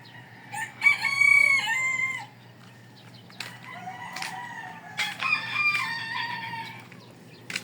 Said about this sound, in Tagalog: Ang mga manok pang nagtilaok guys ang ating maririnig.